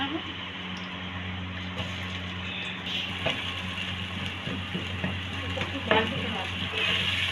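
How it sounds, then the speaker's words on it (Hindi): Onions fry in half a cup of oil for bhindi gosht, giving a continuous close sizzle with occasional stirring scrapes over a low background hum. "ये है आधी प्याली तेल, ये प्याज जा रही है इसमें।"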